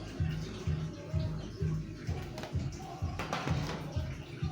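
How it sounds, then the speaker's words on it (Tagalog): Vegetables for pork rib sinigang being washed under a running tap, a steady close rush of water with irregular splashing and rinsing pulses throughout. "huhugasan pala muna natin itong gulay"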